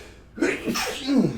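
A single sharp sneeze bursts out after a brief quiet moment, close and fairly loud, with a breathy tail.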